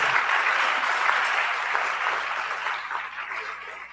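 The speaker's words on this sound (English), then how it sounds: "Big round of applause for our panelists, please." An audience at a women in diplomacy forum applauds the panelists, giving steady, dense clapping that fills the room at even strength and fades slightly toward the end.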